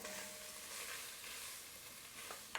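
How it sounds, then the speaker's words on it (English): Tomato paste and a spoonful of flour fry in a pot as a roast is prepared, giving a steady, close hiss of sizzling that holds evenly throughout, with a faint clink near the end. "Just make sure you fry the tomato paste for about a minute to remove that raw tomato paste flavor"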